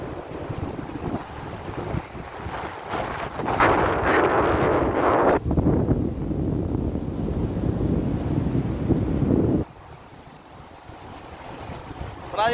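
Sea waves and gusting wind on Cotovelo beach in Natal, Rio Grande do Norte, with cliffs behind: steady broadband surf roar buffeted by wind noise on the microphone, a louder wash midway, then a calmer stretch.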